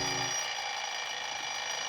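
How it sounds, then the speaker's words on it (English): An alarm clock goes off in a radio drama, a continuous shrill electronic ringing that stays loud and steady throughout with no voices. "When I got home, I set my alarm for 5 the next morning."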